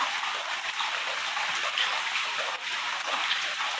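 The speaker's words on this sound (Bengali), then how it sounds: "বৃষ্টি আর থামার নাম নিচ্ছে না, এই যে সকাল থেকে বৃষ্টি" Steady hiss of rain falling, even and continuous, with a soft wash of droplets and no talking.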